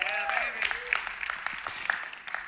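Audience clapping at a church talk, a scattered, uneven patter of claps lasting a couple of seconds, mixed with whoops and cheering voices over it.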